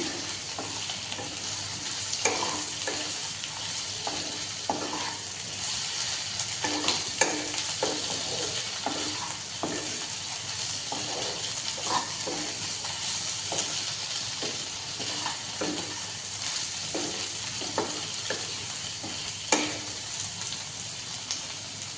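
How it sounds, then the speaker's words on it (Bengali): Snake gourd and potato with turmeric and Kashmiri chilli powder being stirred in a pan, with a soft continuous sizzle and repeated scraping strokes of a spatula at a steady, unhurried rhythm, no talking. "সব কিছু দেওয়ার পর ভালো করে আবারও নেড়ে নিচ্ছে"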